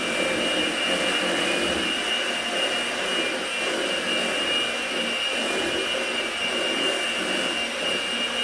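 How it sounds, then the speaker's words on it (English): An electric hand mixer beats low-carb lemon cake batter with a granulated substitute sweetener, giving a loud, steady motor whir with a high whine that runs unbroken throughout, with no talking. "Even with this hand mixer, to get that granulated substitute sweetener, you're going to have to really go at it for a bit"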